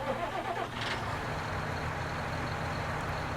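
A John Deere tractor engine in a farming video game turns over and settles into a steady, loud idle, with a low mechanical rumble running continuously from start to finish.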